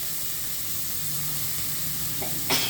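Thinly sliced onions fry on low heat for a tomato egg curry, a steady bright sizzling hiss that stays even, with a short burst of louder spattering near the end.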